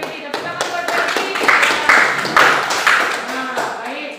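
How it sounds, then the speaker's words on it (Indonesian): Students in a chemistry classroom clap for a classmate, a quick run of close hand claps mixed with voices speaking over them. "Tepuk tangan buat Zeki."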